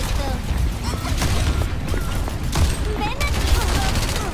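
Widowmaker's sniper rifle cracks a few times in Overwatch 2, sharp reports at irregular moments inside a constant wash of loud, dense battle noise with voices mixed in.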